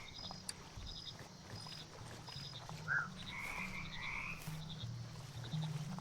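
Frogs croak in the video game Mudborne, soft scattered croaks and chirps over a quiet ambient bed with faint watery tones, no talking.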